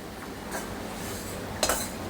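A utensil stirs freshly cooked rice in a kadai that holds fried ghee, giving two brief, quiet clinks and scrapes against a soft, steady background.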